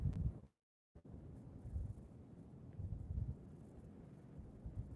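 Steady low rumbling wind buffets an outdoor microphone during a relaxed evening live chat, broken by a brief dropout near the start before the gusty roar returns and continues.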